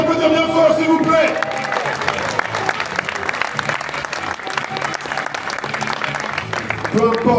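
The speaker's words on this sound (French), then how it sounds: "Est-ce qu'on peut les applaudir bien fort, s'il vous plaît?" Audience applause and cheering at a 3vs3 kids breakdance battle final, a dense steady wash of clapping filling the hall, with an announcer's voice and music fragments at the start and end.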